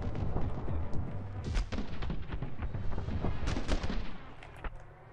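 Rapid, dense gunshots in the action game My Friend Pedro, many sharp cracks in quick succession with booming impacts, loud and close throughout, tapering off at the end.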